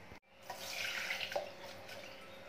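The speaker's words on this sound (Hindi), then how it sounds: "इसे पानी से अच्छे से मैं वॉश कर दूंगी।" Water runs steadily from a tap with a soft splashing hiss, close by, washing flattened rice (poha), after a brief clatter at the start.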